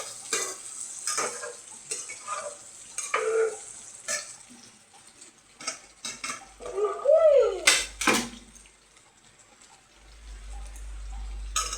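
Pabda fish curry with black pepper, beginning to catch on the bottom of the pan, being stirred: spoon scrapes and clatter over a gentle sizzle, uneven and close, with a low hum coming in near the end.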